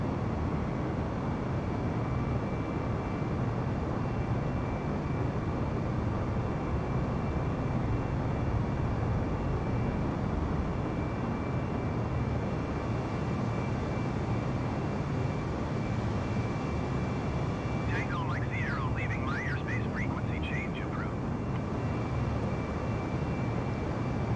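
An F-22A Raptor jet in Microsoft Flight Simulator 2020 roars steadily during takeoff, a dense, unbroken engine rumble and hiss that holds loud and constant, with a brief higher chirping sound near the end.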